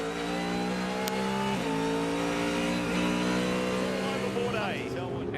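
Prototype race cars at the 2024 Sebring IMSA race roar past at full throttle, loud layered engine tones dropping in pitch as they pass, with a continuous wall of engine noise. A commentator talks over it.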